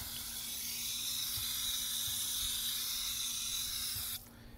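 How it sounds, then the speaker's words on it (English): A garden hose sprays water onto soil in a steady, close, continuous hiss that cuts off near the end, leaving quiet background. "Next you want to get your hose and moisten the area where you're going to plant your seeds"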